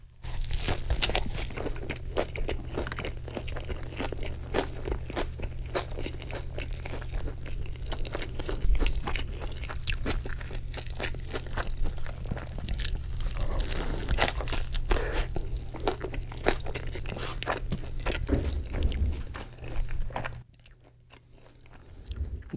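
Close, crunchy chewing of a fried fish taco with heavy breading, steady bites and crackling crunches running continuously before a brief near-silent pause at the end.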